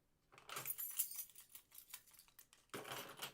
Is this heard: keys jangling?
yes